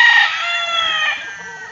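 A single short, loud call from a hen, close by, tapering off after about a second.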